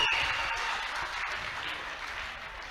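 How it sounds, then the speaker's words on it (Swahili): Congregation at a church youth service applauding, a dense, continuous wash of clapping that starts loud and eases slightly over a few seconds. "Waongeze makofi tena,"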